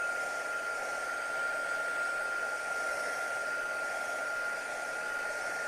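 Steady hair dryer blowing over a painted crackle-effect clock project, a continuous airy roar with a fixed high whine held for several seconds, close and alone with no voices.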